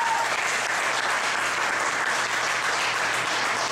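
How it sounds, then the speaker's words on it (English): Steady audience applause fills a live poetry show, dense and continuous clapping from a crowd with no pauses, close and even in loudness throughout. "Y'all clap for everybody to the stage tonight"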